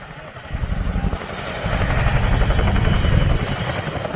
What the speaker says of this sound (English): Forget the revs of F1, CJ, the best noise in the world is that bit of blade slap.